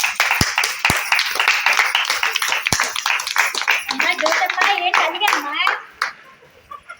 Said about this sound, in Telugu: క్లాప్స్ కొట్టండి ఒక్కసారి